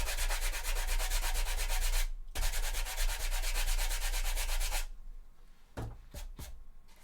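Hand sanding of glue off a cosplay chainsword prop, rapid rhythmic rasping strokes close up, a brief pause after two seconds, then more strokes before a few scattered knocks and scrapes.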